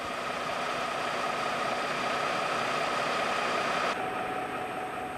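SNCF CC 65000 diesel locomotive with its twin V12 MGO engines running, a dense, steady roar that holds unchanged throughout and sounds loud and close, with high-pitched hiss above it.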